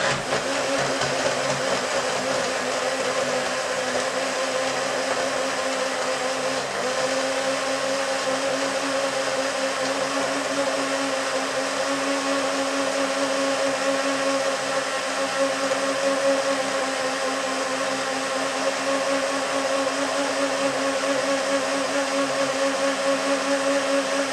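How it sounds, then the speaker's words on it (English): A loud, continuous motor whir runs steadily from start to finish, a blender churning a papaya smoothie at constant speed. "I'm going to blend up them here first."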